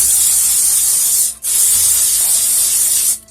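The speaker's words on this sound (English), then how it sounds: "Make sure to give your pans a spray" Cooking spray hisses onto baking pans for pumpkin bread in two long, loud aerosol bursts separated by a brief pause, with no talking.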